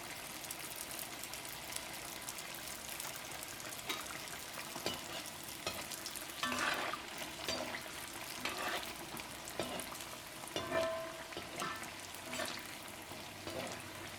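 Unniyappam batter fries in coconut oil in an appam pan, giving a soft, continuous sizzle with scattered crackles and pops that stay fairly quiet throughout.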